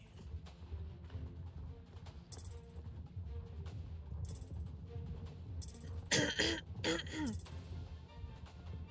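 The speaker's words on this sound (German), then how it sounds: "Entschuldigung, falls ich mich so oft räuspern muss" A man clears his throat a couple of times, close to the microphone, against a quiet background hum during a live gaming stream.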